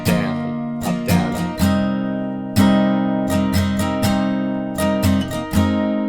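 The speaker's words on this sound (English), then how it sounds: "Now you're going to play that strumming pattern once for each chord in this intro/verse." Acoustic guitar playing the strumming pattern for the intro of a song, clear close strums in a rhythmic down-up groove across sustained chords, played alone with no talking.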